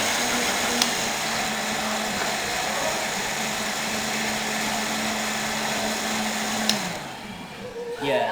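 A blender whirs steadily, close and loud, as it purées harlung fruit into smooth juice, then winds down and stops near the end.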